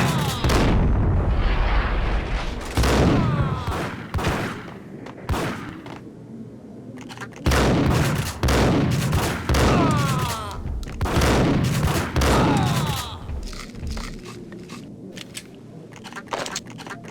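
Gunfire in the video game Max Payne, repeated loud bursts of shots and booming impacts in clusters with brief gaps, close and dense, with voices speaking between the volleys.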